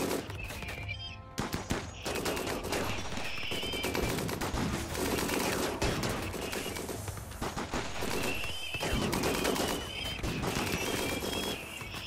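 Rapid bursts of gunfire from raiders in the video game RimWorld crackle in dense, overlapping volleys, loud and sustained, with chirping birdlike tones scattered across the mix.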